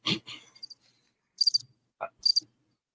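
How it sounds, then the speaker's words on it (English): A crickets-chirping sound effect plays as two crisp bursts of rapid high chirps, close and distinct, preceded and interrupted by a few short bits of talk. "Crickets."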